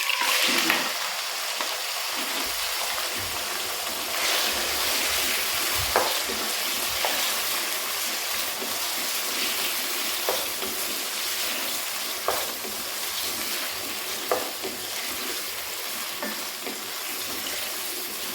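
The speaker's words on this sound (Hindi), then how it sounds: "दो 3 मिनट इसको फ्राई करना है ऑयल के अंदर।" Half a kilo of boneless chicken sizzles steadily in fully heated oil in a karahi, a dense continuous frying hiss with occasional stirring clatters, close and fairly loud with no talking.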